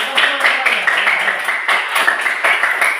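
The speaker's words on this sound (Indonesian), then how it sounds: "tepuk tangan buat dia" Students in a classroom give a classmate steady, dense applause for a top test score, a continuous close patter of many hands clapping at once with no pauses.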